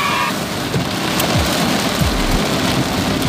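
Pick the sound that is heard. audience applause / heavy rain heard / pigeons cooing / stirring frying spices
heavy rain heard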